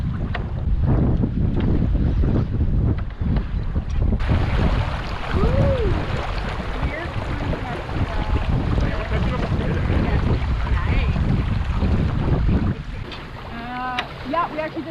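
Strong gusty wind buffets the microphone aboard a Soling sailboat, with water rushing along the hull throughout, loud and close, while people talk intermittently under the roar.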